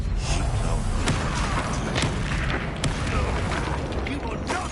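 Fire and blast spells go off in a Hogwarts Legacy battle, with repeated booming explosions and thuds over dense, loud game noise and score.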